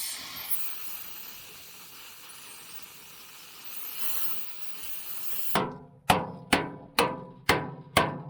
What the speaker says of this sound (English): used a hammer to bend them inward